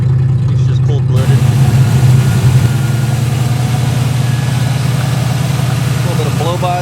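A cold 1963 Oldsmobile 88 engine idles steadily up close with a deep, even low rumble and a slightly rough carburetor, holding constant throughout with a brief faint rise in the middle.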